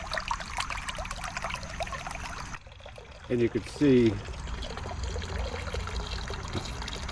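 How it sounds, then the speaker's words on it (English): A frog fountain on a pond pump trickles and splashes water continuously close by, a steady stream throughout with someone talking briefly over it. "the frog is hardly kicking out any water relative to the size of the pond"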